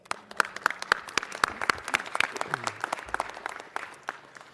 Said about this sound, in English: so they deserve a big round of applause.